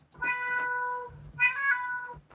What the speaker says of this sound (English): So these are the sounds that I liked from the cat noises.